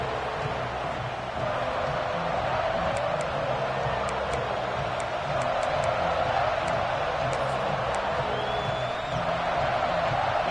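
A stadium crowd in the College Football 26 video game roars in a steady, dense wash of cheering, with faint whoops and occasional brief high chirps over it.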